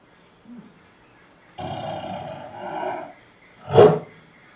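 Tiger roaring close by, one low rumbling call that swells twice and then a sharp loud burst at the end, standing alone against a quiet background.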